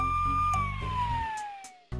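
A cartoon fire truck siren sounds a clear, loud wail whose tone slides steadily downward, with a few clicks and thumps around it.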